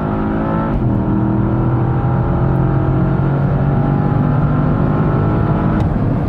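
A big, heavy sedan drives fast on a racetrack at close to 200 km/h, its engine droning loud and continuous with a steady pitch rising slowly throughout, heard alone without talk.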